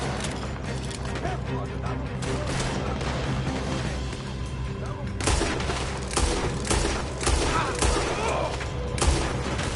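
Sustained gunfire in Red Dead Redemption 2, a dense fusillade of rifle and pistol shots crackling through a loud firefight, with sharper bursts after a few seconds and shouting voices mixed in.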